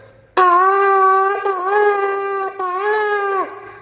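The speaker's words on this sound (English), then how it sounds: "The next one is called the shvarim, and it's 3 broken sounds, like this." Shofar sounding the shvarim: three connected broken blasts, each a sustained brassy horn tone with a dip between segments, loud and close with no other sound.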